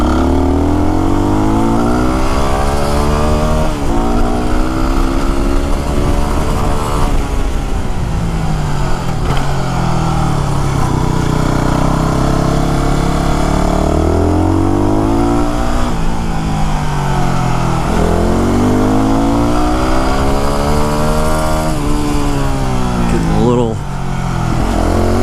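A Yamaha WR250R dual-sport motorcycle engine is ridden along a winding Santa Cruz Mountains road. It runs loud and close for the whole stretch, revving up and easing off again and again as the rider shifts through gears.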